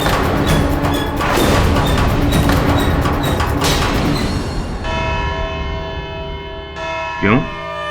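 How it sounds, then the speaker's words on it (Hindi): A bell tolls in a courtroom drama, with loud overlapping strikes and a thud early on, then a long ringing tone that decays and lingers to the end. "घंटी बज गई?"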